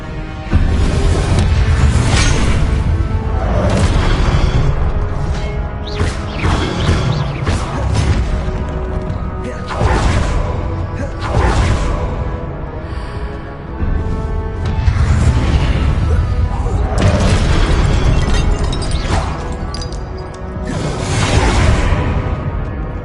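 Spell-casting in Hogwarts Legacy as a Depulso force push is thrown, loud whooshing bursts and booming impacts repeating every few seconds over a continuous dense game soundtrack.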